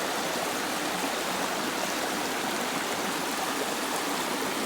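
A cold mountain stream runs over stones and rocks in a steady, close, broadband rush of flowing water with no break, heard alone with no talking.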